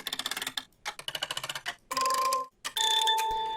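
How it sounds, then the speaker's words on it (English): Bright, plinky toy-like notes play in quick staccato runs, then a few sustained chiming tones ring out, close and clear. "this instrument's actually trying to emulate toy kind of sound"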